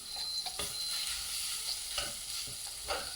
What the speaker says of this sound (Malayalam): മുട്ട ഒന്ന് ചൂടാക്കണം അധികം ചൂടാക്കൊന്നും വേണ്ട ഒന്ന് ഫ്രൈ ചെയ്തെടുക്കണം